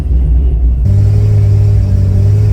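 C6 Corvette engine idling along at about 1,500 RPM while creeping at walking speed, a loud, steady low rumble that swells abruptly after a brief quieter start, heard from inside the car.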